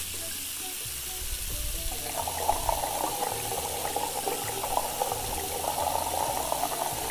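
Tap water running into a sink or pot in the Cooking Simulator game, a steady broadband rush that starts after a couple of seconds and holds at a moderate level to the end.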